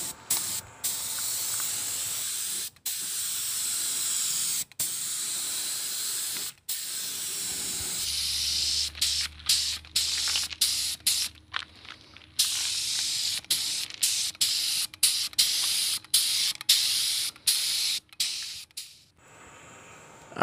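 Blue paint sprays from an aerosol can onto Honda Hurricane motorcycle body covers in short, loud hissing bursts, separated by brief pauses, close by.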